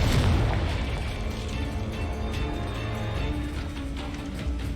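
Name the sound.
explosion spells Bombarda and Confringo in Hogwarts Legacy video game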